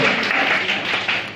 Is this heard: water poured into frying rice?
no